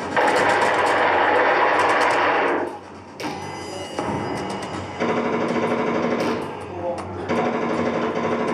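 Tommy gun fire as gangsters shoot men lined up against a brick wall in the St. Valentine's Day Massacre: loud, rapid, sustained automatic bursts that rattle on for several seconds, broken by a couple of short pauses before resuming.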